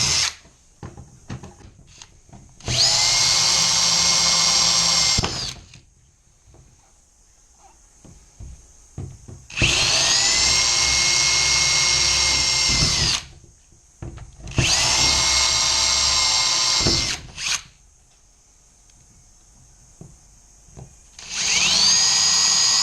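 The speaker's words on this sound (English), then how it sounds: "Frustrating when the aluminium sticks on the end of the drill like that." A power drill whines through aluminium in four separate bursts of a few seconds each, with quiet pauses and small clicks between them.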